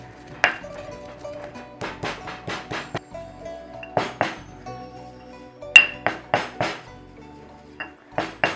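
Coriander seeds, cumin seeds, peppercorns and salt are pounded and ground in a mortar for a Thai yellow chicken curry paste, giving irregular sharp knocks and clinks in uneven clusters, close and fairly loud.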